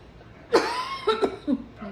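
A close cough erupts, followed by a few smaller hacking coughs in quick succession, then quiet.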